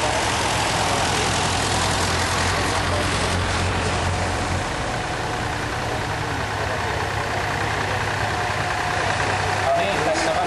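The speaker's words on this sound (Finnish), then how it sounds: "sieltä tulee vielä noita traktoreita" Old tractors drive past at a vintage machinery show in Oulainen, their low engine chugging and idling continuous and close, mixed with outdoor crowd noise.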